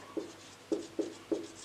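Handwriting an answer, probably pen on paper, in four short scratchy strokes spaced unevenly over under two seconds, close and fairly clear, with no speech.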